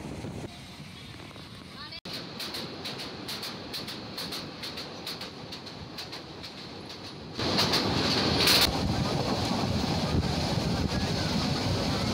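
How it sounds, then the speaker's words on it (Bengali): A passenger train runs between Dhaka and Kasba, recorded from on board, with a steady rumble and rattling wheels mixed with wind buffeting. The noise grows markedly louder partway through, with a few voices faintly in the background. "ঢাকা থেকে ব্রাহ্মণবাড়িয়ার কসবার ট্রেন জার্নি"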